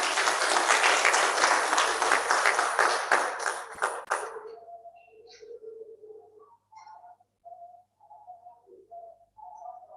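Applause at the Uganda Institute of Information and Communications Technology's 14th graduation ceremony, a loud burst of crowd clapping that fades out after about four seconds, followed by faint scattered sounds.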